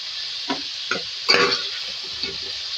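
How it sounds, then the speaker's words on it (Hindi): Broad beans (sem) frying in hot oil in a pan, a steady sizzle with a few soft stirring scrapes over it, close and moderately loud, no talk. "इसमें हम डालेंगे सेम को फ्राई करेंगे, हाफ के जी सेम फ्राई करेंगे।"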